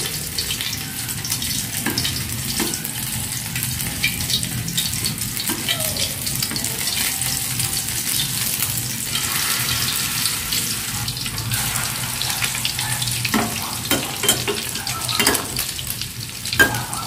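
Food frying in hot cooking oil for a home-cooked dish, a steady close sizzle with bursts of stirring and a running-water wash in the background, no talking.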